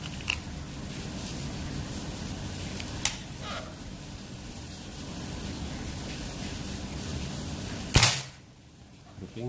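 A single sharp crack from a Predator Mini Phyton-L PCP air rifle with a 40 cm seamless barrel and 38 mm alloy shroud, fired once near the end and quickly fading, after a long stretch of steady background hiss.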